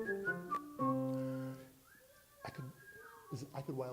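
A person whistles a short melodic tune close up, clear sliding pitched notes with brief pauses, at a blues session.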